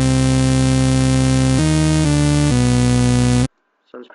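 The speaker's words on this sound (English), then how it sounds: "So this piano roll is going to sound something like this" Dark, deep dubstep synth melody programmed in a piano roll: a thick, buzzy sustained lead stepping through a few held notes, loud and dense, then cutting off abruptly into near silence with a faint brief noise.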